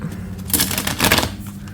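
Oracle cards from the Heart and Soul Oracle deck being shuffled by hand, short papery riffling bursts, close and fairly loud, in two quick flurries.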